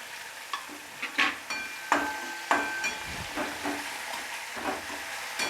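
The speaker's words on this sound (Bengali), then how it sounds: "পেঁয়াজটা আমি মিডিয়াম আছে 2 থেকে 3 মিনিট ভেজে নেব।" Two sliced onions fry over medium heat while a spoon strikes and scrapes the pan in irregular bursts over a continuous low sizzle, close and with no talk.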